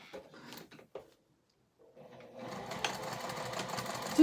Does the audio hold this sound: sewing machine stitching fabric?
yes